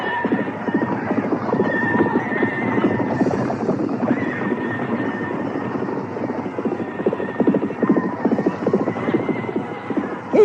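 A white horse neighs and gallops in a battle scene, rapid hoofbeats drumming steadily beneath a rising whinny, with a dense, continuous rumble of action filling the background.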